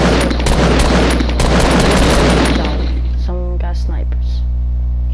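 Sniper rifle fire in a multiplayer video game, a dense roar of rapid shots and booms that cuts off after about three seconds, followed by quieter tonal game sounds.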